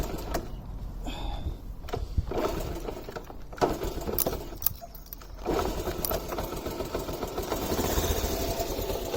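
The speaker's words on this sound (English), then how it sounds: "I'm trying to kickstart her" A red Honda MD90 post bike motorcycle is kickstarted, its small single-cylinder engine sputtering in uneven bursts before settling into a steady idle, recorded close up outdoors.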